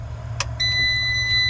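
Electrical warning beep from a Case 445 with 24-volt relays and an electrical fault, a brief click followed by a sustained high electronic tone over a low idling engine rumble, close and with no talk.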